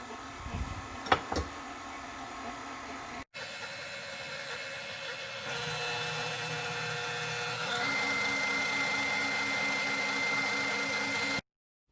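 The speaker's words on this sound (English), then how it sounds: "The dough will be quite tough, but that's why we're using the stand mixer for this." A stand mixer kneads stiff bread dough for Parker House rolls, a steady close motor drone that starts abruptly, runs continuously and steps up louder and higher partway through before cutting off.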